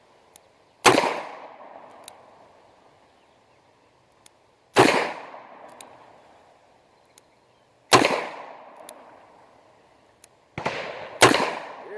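Ruger GP100 revolver firing full .357 Magnum rounds outdoors: four loud, sharp gunshots spaced a few seconds apart, each with a ringing decay, plus faint small clicks between, no talking.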